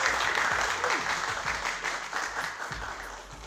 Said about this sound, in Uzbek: Ularni olqishlab qo'yamiz.